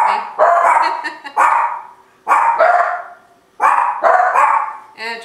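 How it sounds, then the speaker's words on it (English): Dogs bark in a kitchen while pizza is being made with a Breville Smart Oven Air, sounding as several loud, close bursts of barks with short pauses between them. "Those are my dogs. They love to cook with me."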